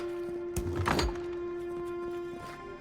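A door in the video game Avowed opens with a single dull thunk near the start, set against a steady tonal background hum, with quiet ambience after.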